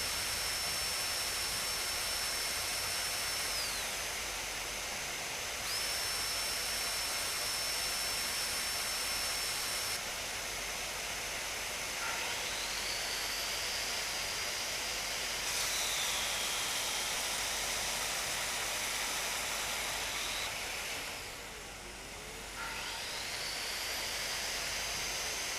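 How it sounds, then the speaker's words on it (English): Blower and exhaust fan set by a window run during countertop cutting at a villa renovation, giving a steady loud broadband roar with a whine that rises and falls, continuous and alone without talk. "we use a blower during cutting and place an exhaust fan by the window to push the dust outside"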